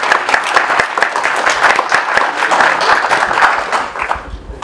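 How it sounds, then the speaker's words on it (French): An audience claps at a hospital New Year's greetings ceremony in Josselin: loud, close applause with distinct individual claps standing out, sustained for several seconds before thinning toward the end. "On applaudit également."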